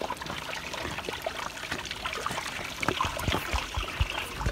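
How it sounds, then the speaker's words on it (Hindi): Spring drinking water trickles and splashes from a pipe in a hillside waterfall valley, a steady close patter with scattered drips and no voices. "ये पानी आ रहा है नीचे भी, तो नीचे भी एक पाइप लगा हुआ है"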